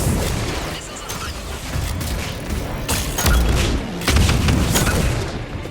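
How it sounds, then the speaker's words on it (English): Missile launches in the video game Mass Effect 3 come as a run of loud booming blasts, several bursts in quick succession over a constant rumbling battle din. "Missiles away."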